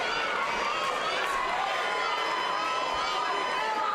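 An MMA arena crowd cheers and shouts for a hometown favorite during a close women's bout, a dense, steady roar of many voices with no single voice standing out.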